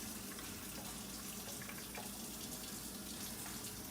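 Hot water pours steadily into a baking pan for crème brûlée, a continuous close splashing and gushing stream at an even level throughout.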